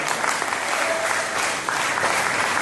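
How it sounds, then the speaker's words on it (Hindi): Audience at an Independence Day eve kavi sammelan applauds to welcome a poet onstage, a dense, steady roar of clapping throughout. "तालियों के साथ स्वागत किया जाए।"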